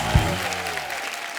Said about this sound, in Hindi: हमारे स्टार लोग के लिए जोरदार ताली